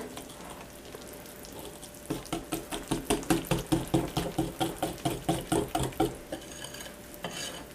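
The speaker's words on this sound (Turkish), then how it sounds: "çırpma teliyle bu şekilde güzelce karıştıracağız hamurumuzu arkadaşlar." A wire whisk beats waffle batter in quick, even strokes, about twenty close rhythmic swishing taps in a row, starting after a quiet stretch and fading out near the end.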